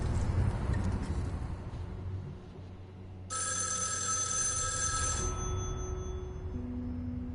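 An old-fashioned telephone rings inside a video game, a loud bright bell-like trill that sounds in bursts over a low background hum, with no speech.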